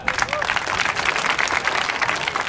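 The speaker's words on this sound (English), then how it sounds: "Give him a round of applause." A crowd at a high school marching band and color guard summer showcase applauds, with continuous, fairly loud clapping and a murmur of voices mixed in.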